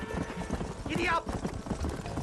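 Horse hooves clip-clopping at a gallop in the video game Red Dead Redemption, a rapid rhythmic pounding with a brief whinny midway, heard under a man's excited speech.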